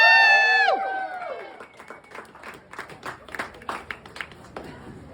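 At a pinup contest, a shrill rising whoop of cheering opens, then fades into a crowd's scattered, uneven clapping that patters on with irregular peaks.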